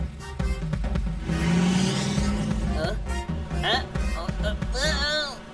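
A cartoon jeep revs and drives off, its engine whine rising then fading, with cartoon voices talking over it and some squeaky sound effects near the end.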